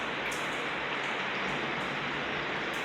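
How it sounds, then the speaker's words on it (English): Heavy rain pouring during a thunderstorm in Santa Ponsa, a dense, loud, continuous hiss of water drumming on surfaces, steady and close with no voices over it. "Have you heard this bloody rain?"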